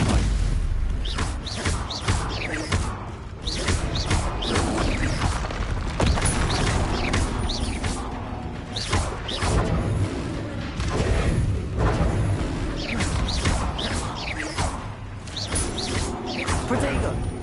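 Stupefy stunning spell cast in Hogwarts Legacy amid a dense magical duel, with repeated booms, crashes and swishing bursts piling up over continuous loud combat noise.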